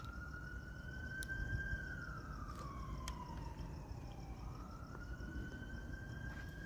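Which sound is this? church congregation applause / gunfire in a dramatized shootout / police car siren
police car siren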